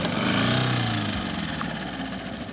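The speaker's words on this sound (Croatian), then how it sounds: "Začudo, motor pali iz prve." Boat outboard motor on a Croatian bay near Zadar starts on the first try and runs with a steady, loud, close mechanical drone for the whole stretch, with no talk over it.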